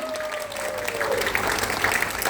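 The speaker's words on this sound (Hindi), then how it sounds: "तालियां रुकनी नहीं चाहिए।" Audience applause at an Oriflame business presentation, a continuous crowd of clapping hands filling the space at a steady level, with a faint tonal sound sliding through early on.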